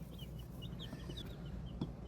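Newly hatched chicks cheep in short, high, faint peeps scattered over a low background rumble, fairly quiet and close.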